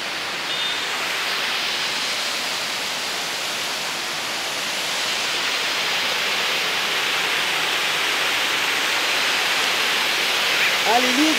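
Waterfall roaring as a continuous, even rush of falling water, close and loud throughout, with a brief voice near the end.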